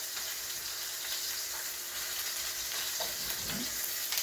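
Lamb shank browning in a pot, giving a steady, dense sizzle and crackle of hot fat, close and continuous, with a faint stir or scrape near the end and no voices.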